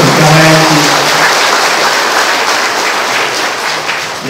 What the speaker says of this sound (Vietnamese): xin quý cộng đoàn chúng ta cùng vỗ tràng pháo tay để chúc mừng cho hai anh chị